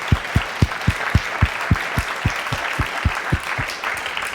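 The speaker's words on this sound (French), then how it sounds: "Applaudir un grand maître." A seated audience at a Louvre lecture applauds, with a steady rhythmic beat of unison claps sounding through a softer bed of scattered clapping.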